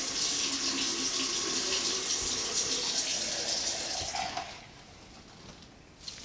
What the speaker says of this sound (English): I can still just run the water.